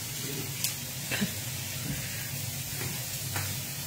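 Eggs scrambled in a hot pan during a bison breakfast stir-fry, giving a steady sizzle with a few soft stirring scrapes throughout.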